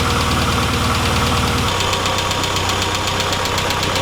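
A Classic Mini SPi engine idles close by during its first start-up while warming up, with a steady, loud, rhythmic rumble and a lower pulsing beat that shifts slightly partway through.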